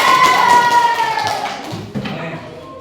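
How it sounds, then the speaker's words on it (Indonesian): A classroom of students claps for a presenting group, a dense patter of many hands that fades toward the end, with a few young voices mixed in. "Tepuk tangan dulu untuk kelompok 4"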